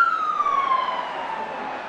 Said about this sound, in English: A helicopter with a police siren on it.